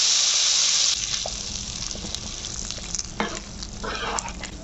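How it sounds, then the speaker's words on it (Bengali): Hot spice tempering hisses and sizzles as it hits a pot of cooked dal with Malabar spinach, a loud initial burst settling into steady crackling with a few clinks of stirring. "ফোড়নটা আমি দিয়ে দিলাম।"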